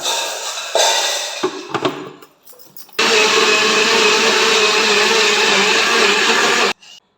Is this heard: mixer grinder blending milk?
yes